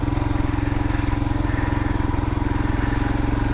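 A motorcycle riding along a slippery, slimy green lane, its engine thumping in a steady rapid pulse that stays loud and close throughout, with some wind noise over it.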